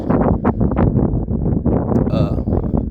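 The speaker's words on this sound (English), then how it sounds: "if it's a little windy, I'm on my daily walk." Wind rumbles heavily across the microphone in a constant low roar, with a muffled voice partly buried beneath it.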